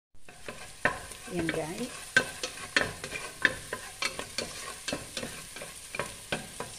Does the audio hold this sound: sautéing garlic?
yes